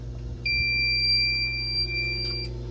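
An elementary school fire alarm system sounds during a test, giving a continuous piercing electronic tone that holds steady for over two seconds above a low constant hum, near and with no voices.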